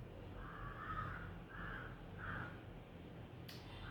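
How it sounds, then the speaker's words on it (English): Crows caw outdoors in a few rough, repeated calls at moderate distance, spaced over a few seconds above a low background rumble, with a short sharp click near the end. "with the crows going wild."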